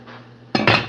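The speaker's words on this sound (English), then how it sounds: "I'm gonna put this garlic in the pot for the lobster" Garlic is dropped into a metal cooking pot for boiling lobster, producing a brief bright clatter and clink of kitchenware after a quiet low hum, close and loud.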